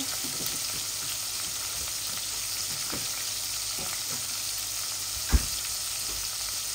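Pieces of rohu fish frying in oil in a pan, a steady quiet hiss and sizzle with occasional soft crackles and one sharp knock of utensil on pan, no talking.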